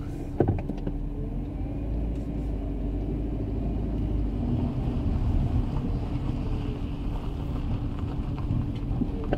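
A Toyota Carina E XLi 1.6 estate drives with a window open, giving a steady low road and engine rumble mixed with buffeting wind noise throughout, with no talking.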